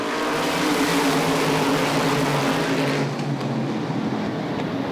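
Pack of ACT race cars at Lee USA Speedway roaring loudly together on a green flag restart, a dense, sustained engine drone with layered rising tones that eases slightly toward the end.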